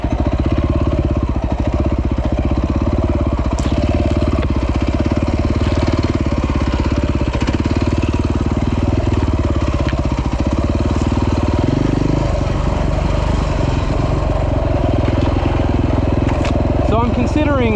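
A KTM 450 EXC single-cylinder motorcycle with a custom adventure build idles steadily and loud on sandy uphill terrain, its low throbbing hum continuous throughout while someone talks over it.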